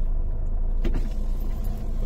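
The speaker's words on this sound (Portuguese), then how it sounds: "Outro carro vem ali, eu vou mostrar aqui pra vocês." A car on a flood-damaged road with torn-up asphalt, rumbling past at moderate distance in a brief low drone, with a faint swish as it goes by.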